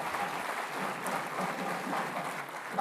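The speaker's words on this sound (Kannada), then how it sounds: "ಪುಷ್ಪಾ ಕಾಶಿನಾಥ್ ಅವ್ರಿಗೂ ಕೂಡ ಒಂದ್ಸಲ ಜೋರ ಚಪ್ಪಾಳೆ ಬರಲಿ" An audience applauds at a stage event, a steady wash of many hands clapping at moderate distance, fairly soft and even throughout.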